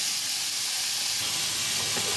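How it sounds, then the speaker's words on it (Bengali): Tomatoes stirred gently while frying in a pan, a steady close hiss and sizzle with no talk over it. "টমেটোগুলোও তাই, একদম যাতে গলে না যায় আবার কাঁচাও না থাকে সেভাবে আমি একটু হালকা হাতে নেড়ে ভেজে নিচ্ছি।"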